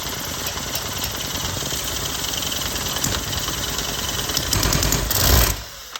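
Miniature Harley-Davidson V-twin shovelhead model engine runs with no exhaust fitted, a steady close buzzing idle with fast mechanical chatter that swells louder near the end before cutting off abruptly.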